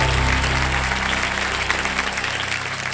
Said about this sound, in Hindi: एक बार जोरदार तालियां बज जाएं बिजल जी के लिए।